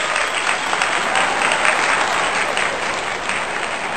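A cricket crowd applauds a batsman's half century with dense, steady clapping that carries on for the whole stretch without a pause.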